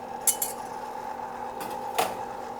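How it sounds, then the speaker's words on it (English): A spoon or whisk clinks against a bowl a few times while milk and dry yeast are stirred together, sharp metallic taps over a faint steady hum, close and with no voices. "first we stir all together"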